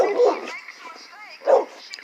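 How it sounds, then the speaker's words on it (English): Dogs barking nearby in short, loud yips and bow-wows, two main bursts with a whimpering whine between them, over someone talking. "You hear what I got put up with? These daggum dogs."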